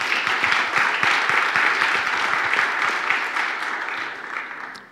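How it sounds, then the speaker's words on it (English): Conference attendees at a Chisel community event give poster presenters a round of applause, a full, sustained burst of many hands clapping that holds strong before tapering off at the close. "So let's give every presenter a round of applause."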